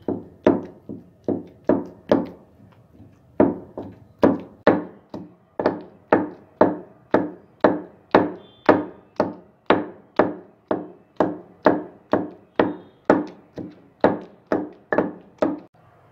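Gongura and tomato chutney with turmeric and salt being pounded in a stone mortar: steady, close, rhythmic thuds about twice a second, two dozen or so strokes with one short pause early on, no talking.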